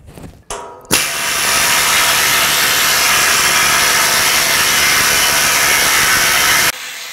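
An air needle scaler strips paint from a propane tank, a loud continuous rapid buzzing hammer that kicks in after a short start and runs steadily for several seconds before cutting off.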